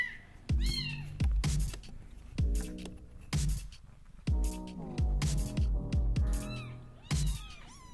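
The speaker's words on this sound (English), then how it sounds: "that ball of cuteness is a rescue kitten that's looking for a home" A small rescue kitten meows repeatedly, close and clear, about a dozen high, wavering cries in an uneven rhythm with brief pauses between them and no talking.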